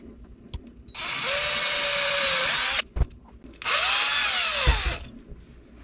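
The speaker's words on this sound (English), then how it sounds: "drill it through the side, and put these in there." A power drill bores holes in a wooden fishing lure in two long, close bursts of whining, grinding sound, with short knocks and clicks around and between them.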